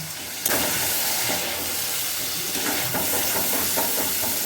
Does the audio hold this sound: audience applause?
no